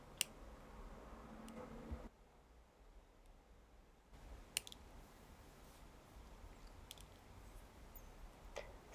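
Sharp scissors snip through perforated cross-stitch paper around a stitched piece, making a few sparse, crisp clicks spaced seconds apart in a quiet room.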